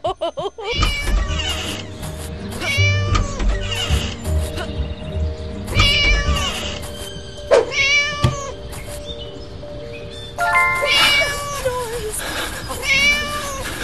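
In the mobile game Scary Teacher 3D, a cartoon cat meows repeatedly in loud, whining calls over a steady game music loop, some calls stretched into caterwauls, close and prominent throughout.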